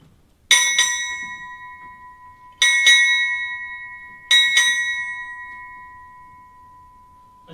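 A ship's bell rings at a naval change of command ceremony at Naval Medical Center Camp Lejeune, struck in three paired double strikes for six clear metallic dings, each pair ringing out and slowly fading before the next.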